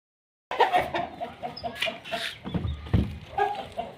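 A hen shut in a coop with her chicks clucks in short, irregular bursts close by, with soft rustling and a few faint background sounds around the calls.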